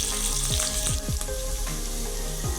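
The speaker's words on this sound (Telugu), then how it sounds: "అలానే ఒక కప్పు ఉల్లిపాయ వేసుకుందాం ఇది మంచిగా ఫ్రై అవ్వనిద్దాం" Onions and green chillies frying in oil in a pan for a mushroom pulao, a dense steady sizzle with several sharp spatula strokes spaced through it, close and with no talking.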